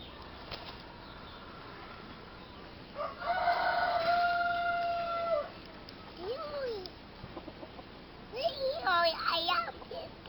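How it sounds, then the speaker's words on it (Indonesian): Chickens and a rooster outdoors: wings flap, then a rooster crows once at moderate distance, followed by scattered clucks and short calls, with a voice faintly mixed in. "Ayam kita."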